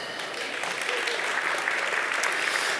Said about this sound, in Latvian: Tie aplausi ir domāti vairāk, lai gatavotos uzklausīt runātājus